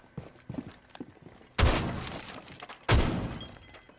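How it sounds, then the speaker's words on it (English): Gunfire shooting open a wooden dresser in Rainbow Six Siege, a few light taps and thuds followed by two loud, close bursts of shots tearing into the furniture with splintering debris. "Shoot open this dresser."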